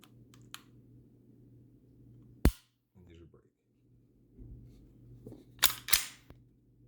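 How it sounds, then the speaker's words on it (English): Small sharp mechanical clicks from a Walther PDP pistol trigger's take-up, wall and reset sound close by: a single crisp one, then quieter shuffling, then a cluster of two or three clicks near the end. "So here's your take up. You can hear it hits the wall right there."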